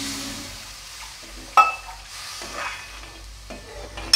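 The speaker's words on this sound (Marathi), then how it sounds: "खूपच चरचरीत फोडणी बसलेली आहे।" Spice tempering (phodni) for a traditional modak curry sizzles steadily in a pan, with stirring scrapes and a few sharp utensil clinks on top of the frying hiss.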